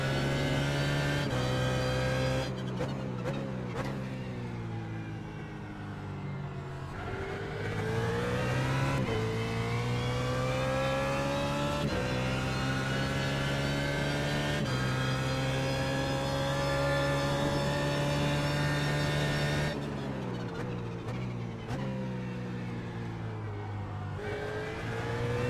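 A BMW Z4 GT3 race car at Daytona in the iRacing simulator, its engine note climbing repeatedly through the gears under heavy throttle, with loud, close and steady drone broken by brief shift dips.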